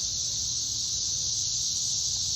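Dense cicada chorus in a Tennessee yard during the 2024 emergence, a loud continuous high-pitched drone holding steady throughout with a low rumble underneath and no talking.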